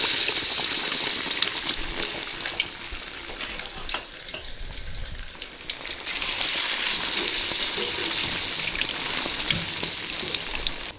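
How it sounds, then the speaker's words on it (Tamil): Fish fries in hot oil, giving a dense, loud, continuous crackling sizzle that holds throughout with brief scattered pops, close up and uninterrupted. "எண்ணெய் காஞ்சிருச்சு பாருங்கள் மீன் வறுக்க போகிறோம்"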